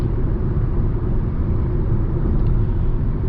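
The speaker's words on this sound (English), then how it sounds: "it sounds like it's a Cvt transmission also, so it's not a regular transmission, it sounds like a CVT" A 2019 Mitsubishi Outlander with a CVT transmission idles and runs, a steady, low engine rumble with a constant drone heard from nearby and no talking.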